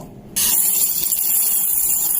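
A kitchen mixer grinder whirs on abruptly and runs as a loud, steady high-pitched grinding drone, pulverising cooled roasted black urad dal with cardamom and dry ginger into powder.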